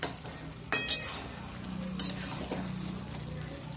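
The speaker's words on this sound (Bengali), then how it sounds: "এই পর্যায়ে গ্যাসের আঁচটা মিডিয়ামে রেখে বেশ কিছু সময় ধরে নেড়েচেড়ে ভালোভাবে মিশিয়ে নিতে হবে সব কিছু।" Spinach ghonto stirred in a pan over medium gas heat, with a quiet background sizzle and several sharp scrapes and clinks of the spoon against the pan at irregular intervals.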